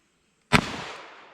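A single sharp gunshot from a Smith & Wesson Model 66 .357 Combat Magnum revolver with a 4.25-inch barrel, loud and close, with a long reverberant decay trailing off afterward.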